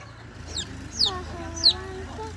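A hen clucking among small chicks, with a few short, high, sharp chirps spaced apart over soft clucking calls, close by in a quiet setting.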